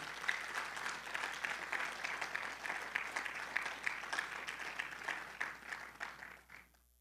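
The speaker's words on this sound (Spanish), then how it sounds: "Dele fuerte el aplauso al Señor, porque Él es bueno" Steady applause from a church congregation during a sermon, dense clapping holding for several seconds before fading out at the end.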